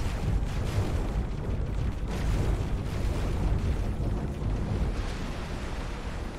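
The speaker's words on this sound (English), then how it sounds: "Explosion imminent." A large, sustained explosion rumbles through the X4 space game, a dense low roar with rolling bursts and crackle that holds steady for several seconds without easing off.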